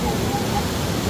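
Pinlac Falls gives off a dense, steady roar of rushing rainwater from a nearby waterfall, a broad unbroken wash of falling water with faint voices mixed in.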